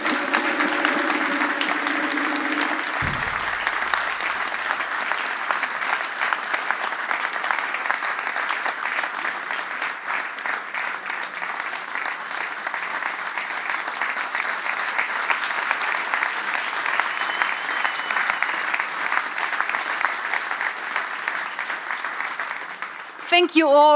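Guests at the grand opening of a Yaskawa building in Hattersheim applaud after the ribbon cutting, a long steady round of crowd clapping following a brief tone at the start.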